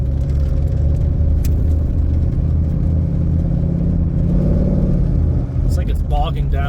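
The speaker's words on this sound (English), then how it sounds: "It's like bogging down when you give it gas." A 1990 Chevrolet Suburban with 420,000 km engine bogs down at half throttle, giving a loud, steady low rumble that stays flat rather than climbing. A voice starts talking near the end.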